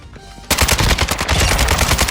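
Automatic gunfire in Call of Duty Modern Warfare II on PS5 bursts in abruptly after a quiet moment, a loud, close, rapid continuous volley of shots.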